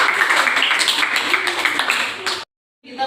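A classroom of students clapping for themselves in a brief burst of dense, close applause mixed with voices, then cutting off abruptly into silence.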